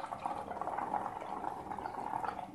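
Bubbles blown through a straw into liquid tinted with red food coloring, a steady close bubbling and gurgling that froths continuously without pause and with no voice over it.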